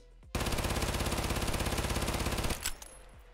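A PPSh submachine gun in Escape from Tarkov fires one long continuous burst, loud and close, with rapid even shots that stop sharply into a short echoing tail.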